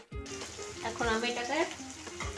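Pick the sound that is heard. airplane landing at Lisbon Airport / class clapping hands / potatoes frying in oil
potatoes frying in oil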